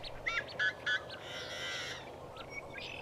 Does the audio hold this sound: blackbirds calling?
yes